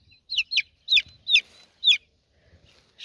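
Young chickens cluck and peep on green grass outdoors, about five bright, close calls in an irregular rhythm, with a few softer chirps after them.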